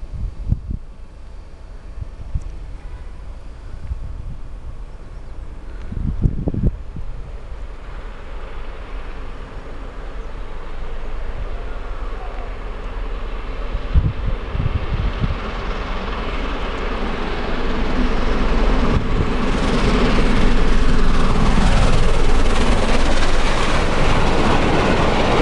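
The A1 Peppercorn class steam locomotive Tornado passing Harringay station, a broad rushing roar of the train that swells steadily and grows louder toward the end, with rail clatter and low rumble.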